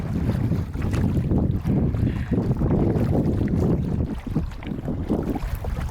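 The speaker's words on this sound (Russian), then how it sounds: "А ветерок-то все-таки есть, но волны нет." Wind buffets the microphone in heavy, continuous gusts on an Arctic kayak trip, a loud low roar with faint water sounds underneath.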